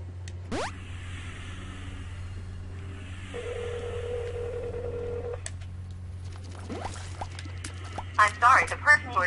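A phone call placed on speakerphone, with a steady low hum, a brief rising tone, then a sustained dialing beep before chattering noises and a voice join near the end.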